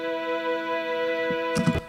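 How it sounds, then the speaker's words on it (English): A Moog synth with a stereo tape delay holds a steady buzzing tone for two seconds, and a few soft, noisy taps appear near the end. "This one got a stereo like tape delay,"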